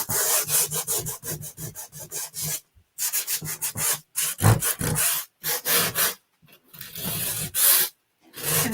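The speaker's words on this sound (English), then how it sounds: "And then I sand it a little bit on the top." Hand sanding on the top of a wooden piece being distressed for a furniture flip, close and dry, with a series of quick rasping rubbing strokes in bursts separated by short pauses.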